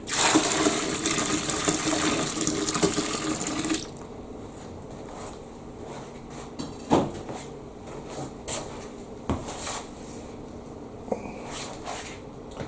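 Near-boiling water gushes into a clogged kitchen sink drain during a baking soda unclogging attempt, a steady rushing pour for about four seconds, then quieter trickling, gurgling and a few sharp knocks.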